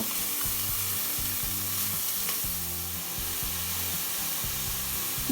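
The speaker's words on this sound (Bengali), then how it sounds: "ভালো করে নাড়াচাড়া করে লবণ হলুদ চিনিটা সব বিটে মাখিয়ে দেব" Beetroot frying in a pan while being stirred with salt, turmeric and sugar, a steady close sizzle over a continuous low rhythmic hum, with no voices.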